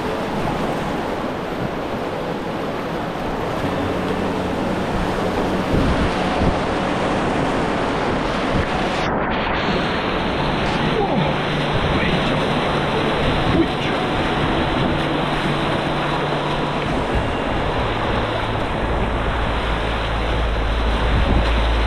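River waves and gusting wind on the Enns during packrafting, a continuous rushing wash with heavy wind buffeting against the microphone throughout.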